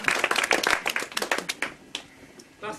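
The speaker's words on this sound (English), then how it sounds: "round of applause for him." Wedding guests at Gretna Green clap for the best man, a quick burst of close hand claps that thins out and fades within a couple of seconds.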